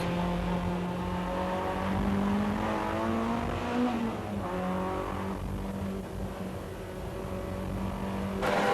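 A race car in a 1988 Production Car Championship race hums steadily at moderate distance as it leaves the pit lane, its pitch rising and easing as it pulls away onto the track, with no voices.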